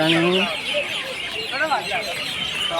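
Many birds call and chatter together at dusk around the ancient Modhera Sun Temple in Gujarat, a dense, continuous outdoor chorus with a cluck-like call, and someone speaks faintly beneath it.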